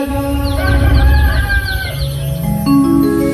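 Rooster crowing at dawn over a steady musical backing, a loud crow standing out among sustained tones rather than heard in isolation.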